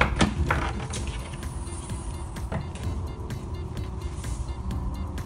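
Boot of a small Peugeot 108 five-door hatchback opening, with a few creaks, clicks and mechanical knocks close by against a low background rumble.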